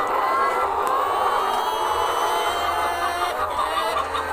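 Laying hens in battery cages, about two weeks into a laying house, cluck steadily in a dense, loud chorus that fills the space without pause.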